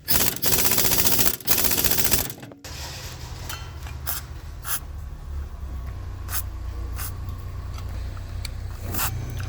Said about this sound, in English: I'm just going to use the 1/2-inch impact to get them back on as well when I'm done